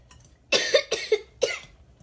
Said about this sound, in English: You have to cough where?